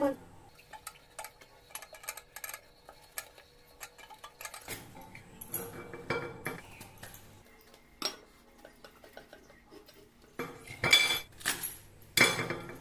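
A knife works through breadfruit on a cutting surface, giving scattered clinks and knocks at close range with occasional louder clacks, among kitchen utensil sounds and with no talk.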